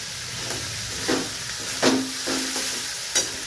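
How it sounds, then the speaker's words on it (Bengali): Soaked cashews and raisins stirred in a hot frying pan, a soft steady sizzle and hiss with a few sharp scraping strokes of a spatula, close and without speech. "এই যে কাজু কিশমিশ ভিজিয়ে রেখেছিলাম এইটা, দিয়ে একটু নাড়াচাড়া করে"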